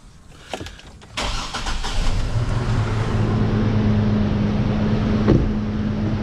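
Engine of a 2007 Chevy TrailBlazer with a rough-running fault cranking and starting, then settling into a steady, loud idle with a low hum and a slight blip near the end.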